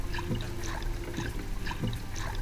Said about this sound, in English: Listen to it as it scuffs and splashes its way along, announcing its presence.